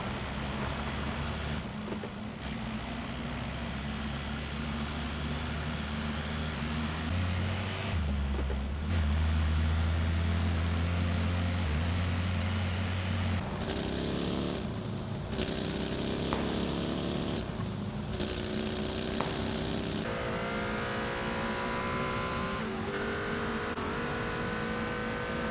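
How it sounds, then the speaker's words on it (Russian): Vehicle engines in the video game PUBG after an update to more realistic engine sounds, a continuous roar that revs up and shifts pitch through several accelerations, with brief cuts between different vehicles. "Еще более значимые изменения коснулись машин. Во-первых, им всем поменяли звук движка на, по словам разработчиков, более реальный."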